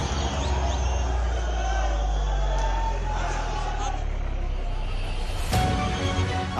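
Protesters from Hindu organisations surge into a tunnel in Shimla after breaking a barricade, a dense, continuous crowd roar with mixed voices and shouting, steady and loud throughout, with a brief sharp burst near the end.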